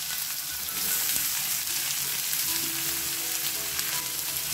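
Onions frying in hot oil with crackling mustard seeds, cumin and hing, a steady dense sizzle with faint stirring, close and fairly loud, no voices.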